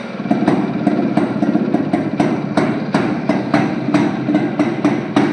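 A restored Jawa motorcycle engine runs close by at a steady pace, with a continuous mechanical drone broken by regular sharp ticking pulses; no talking.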